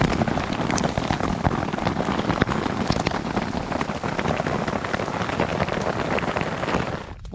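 Hail falling in the Sawtooth Wilderness, a dense, continuous patter of pellets striking the ground and gear close by, loud and steady throughout with no voices.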